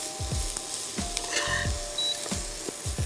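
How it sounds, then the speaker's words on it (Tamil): Grated coconut sautéing in a pan for a Kerala-style green chicken and vegetable kozhi kuzhambu, a steady close sizzle broken by rhythmic scraping stir strokes roughly every half second, with no talking. "ஸோ நம்மளோட தேங்காய் வந்து இங்கே வதங்கிருச்சு"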